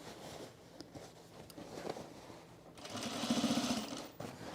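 A sewing machine stitches men's cargo shorts in a short, fairly quiet burst near the end, after a stretch of low handling noise and fabric rustle.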